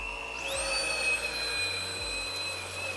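Cecotec Conga cordless stick vacuum cleaner with a basic brush running over a carpet, a loud steady whine with high motor tones that shift slightly in pitch, continuous and close.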